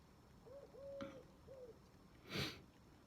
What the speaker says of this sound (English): Barely hear anything other than bird